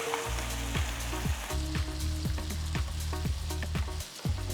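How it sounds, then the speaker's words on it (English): Chutney sautés in a hot pan with popping mustard seeds and fresh curry leaves, a continuous bright sizzle punctuated by repeated sharp crackles and spatters, fairly close and with no talking. "Then add the chutney and saute for about a minute."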